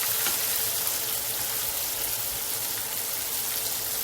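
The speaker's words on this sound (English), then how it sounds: "Got this chicken thighs, they frying up real nice." Chicken thighs shallow frying in oil in a pan, a steady, even crackle and sizzle that continues without a break, fairly close and moderately quiet.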